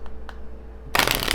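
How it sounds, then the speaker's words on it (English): Deck of oracle cards shuffled by hand, two soft taps and a pause, then a loud, close riffle of flicking cards, alone without talk. "I have pre-shuffled the oracle cards as we move through"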